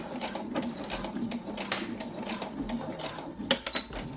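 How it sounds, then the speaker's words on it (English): Sewing machine back stitching through a synthetic leather pouch, a steady, fairly quiet mechanical whirr with rapid needle ticks and a few brief louder clunks near the end, no talking. "Back stitch at the end."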